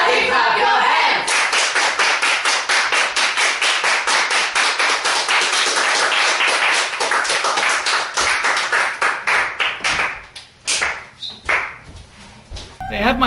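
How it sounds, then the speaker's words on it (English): A group of people claps their hands together in a fast, steady rhythm that is loud and close. It continues for about ten seconds, then breaks into a few scattered, uneven claps. "Everybody clap your hands!"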